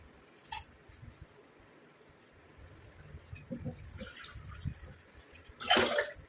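Curry leaves swished and rinsed in water, with soft splashing and rustling that grows busier, ending in a louder splashy burst nearby.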